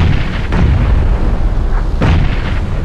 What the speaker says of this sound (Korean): 와 수류탄에 차가 터집니다